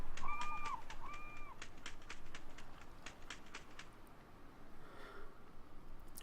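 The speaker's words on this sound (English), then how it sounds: "Birds!" Birdsong in the video game Trails in the Sky the 3rd, a run of short, bright chirps and two clear whistled calls near the start, thinning out over a faint ambient background.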